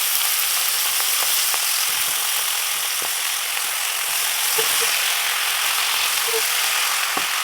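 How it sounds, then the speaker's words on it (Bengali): Shrimp fries with onion and garlic in a pan as chopped Malabar spinach goes in, giving a loud, steady sizzle throughout with a few sharp clinks and stirring knocks scattered over it. "চিংড়ি মাছটা পেঁয়াজ রসুনের সাথে হালকা একটু ভেজে নিয়েছি এবার কেটে রাখা পুঁই শাক দিয়ে দেবো"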